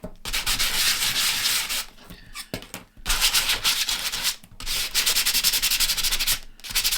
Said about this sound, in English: First, I'm going to take some sandpaper and get it smooth.